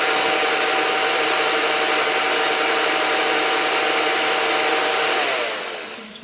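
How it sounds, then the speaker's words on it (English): A kitchen blender whirs loudly and steadily as it blends peppers for Ofada stew, holding one continuous high whine before spinning down at the end. "I'm gonna go ahead and blend my peppers and cook it to dry before I come back"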